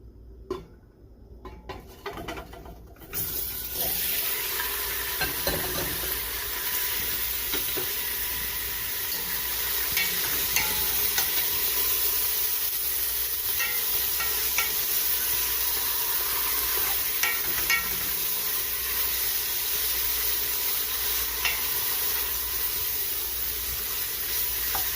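Lamb browning in sesame oil in a pan on a stovetop, a continuous broad sizzle with occasional stirring scrapes and utensil clinks, after a few seconds of quieter handling at the start.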